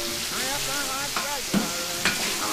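Steady broadband sizzle of catfish fillets frying in a cast iron skillet, with a few soft clinks of utensils against the pan.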